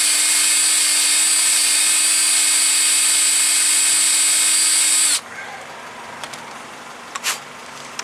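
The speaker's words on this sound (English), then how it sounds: "I'm taking a drill, I'm anchoring it against my leg for stability." A handheld power drill whines steadily and loudly, drilling out a seized brake pin on a 2007 Nissan Altima front brake job, then cuts off abruptly, leaving faint workshop clatter.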